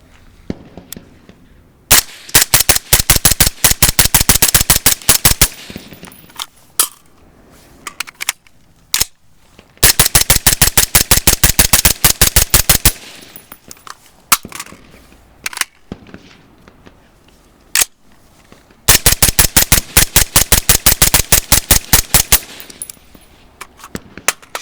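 A .22 rifle fitted with a B&T Tiger suppressor fires as fast as possible through three magazines. The rapid, sharp suppressed cracks come in three long strings separated by short pauses, with a few stray shots between.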